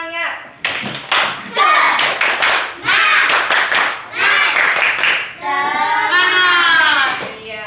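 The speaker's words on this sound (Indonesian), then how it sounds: "Ya, biar lebih semangat lagi kita tepuk semangat." A school class of children does a rhythmic spirit clap in the classroom, loud bursts of patterned hand claps mixed with chanting voices, ending in sung calls.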